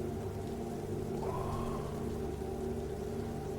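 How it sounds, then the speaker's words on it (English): Rain falls on dirty city streets, a steady wash of drops with a low rumble beneath that could be distant thunder, continuous and moderately loud throughout. "Rain falls down on these filth-infested streets"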